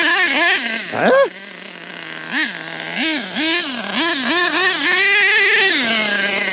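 A nitro-powered HPI Savage RC monster truck engine revs in repeated short, rising blips with a sharp spike early on, then settles into a steady high whine, loud and close.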